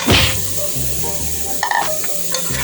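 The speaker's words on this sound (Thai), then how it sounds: "คลุกเครื่องให้เข้ากับเนื้อหมูเลยนะครับ" Pork ribs are tossed and stirred with seasoning in a pot, giving a scraping, sizzling clatter that is loudest at the start, then settles into a steady hiss with a few sharper knocks.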